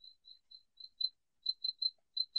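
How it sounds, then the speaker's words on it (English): A small cricket chirps indoors in a quiet studio, a steady series of short high pulses repeating about every quarter second, near and clear with no voices. "if you can hear the little cricket in the background"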